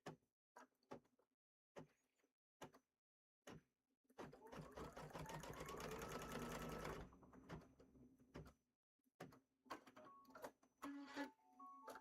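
A sewing machine stitches down a pillow wrap in one sustained whirring run of a few seconds, close and fairly loud, bracketed by brief clicks and handling knocks with quiet pauses between.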